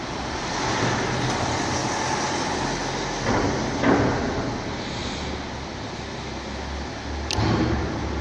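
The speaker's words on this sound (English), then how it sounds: "Another car is coming here." A car passes by on the road, a broad steady roadway rumble that swells slightly as it goes by, with no talk.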